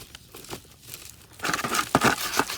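Plastic tarp crinkling and rustling as it is shaken to clear out dug-up dirt, quiet at first and then louder with repeated shaking bursts, close by.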